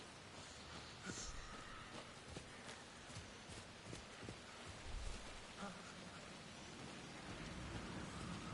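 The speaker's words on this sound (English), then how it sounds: "It's now raining." Steady rain pours throughout a stormy scene in the video game Alan Wake II, with low rolling thunder rumbling underneath and a louder crack near the five-second mark, no voices present.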